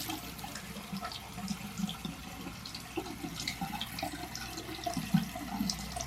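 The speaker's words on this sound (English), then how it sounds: "I'm going to wash it under the cold water now." A Dyson V11 Animal vacuum filter washed under a running cold tap, a steady faint stream of water with soft splashing and dripping, close and continuous, with no voices.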